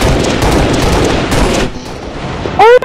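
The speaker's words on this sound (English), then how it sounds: "Oh my god, I shot him in the headshot!" Rapid automatic gunfire from the video game Halo Reach crackles loudly and steadily for over a second, thins out, then a sharp rising electronic whine-like effect cuts in near the end.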